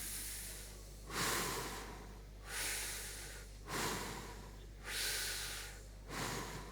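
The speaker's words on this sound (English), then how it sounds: "Breathe in." A person draws deep breaths in through the nose, five long audible inhales at a slow steady rhythm with quiet gaps between them, close to the microphone, with no talk over them.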